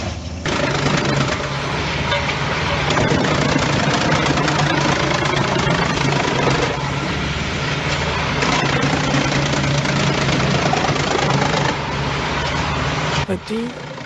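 Deutz FHR 4.4 diesel engine of a forestry tree-cutting machine running steadily, a loud continuous low rumble with mechanical clatter and harmonic drone, close and sustained throughout before cutting off abruptly near the end.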